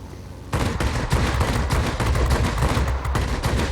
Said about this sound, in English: I have to really be cognizant of the bursting of these cannons because they overheat so rapidly